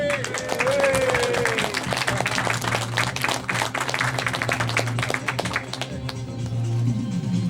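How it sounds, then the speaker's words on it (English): Sustained applause from an audience at a convention panel, dense clapping filling the whole stretch with a steady low hum and some murmuring beneath it. "Please give a round of applause for Joffa Smith."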